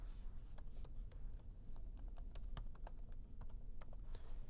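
Fast, steady typing on a computer keyboard while entering a mail server address into a Mitel phone system setup screen, crisp close key clicks in a continuous run with no voices.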